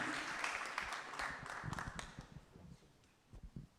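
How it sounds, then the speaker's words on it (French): Audience applause at a round table session, a moderate clapping crowd filling the room at first, then thinning into scattered claps and fading toward the end. "On peut vous applaudir pour votre intervention."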